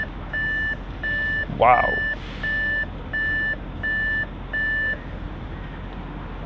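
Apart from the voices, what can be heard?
electronic beeping from an Audi RS7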